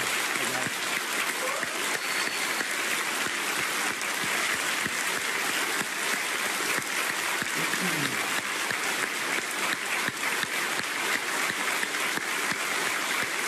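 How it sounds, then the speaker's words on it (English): A town hall audience claps in sustained, dense applause filling the room, steady and loud for over thirteen seconds, with faint voices buried underneath. "If we could just get a quick round of applause for Staff Sergeant Joe Davis and Sergeant Bl"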